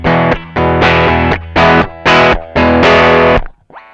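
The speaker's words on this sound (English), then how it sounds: "If you crank the drive up, it'll just sound like you've just overloaded that valve circuit." Electric guitar played through a Line 6 POD amp modeller with the drive turned fully up, giving a heavily overloaded valve-style distortion in a series of loud, thick chord bursts that cut off abruptly.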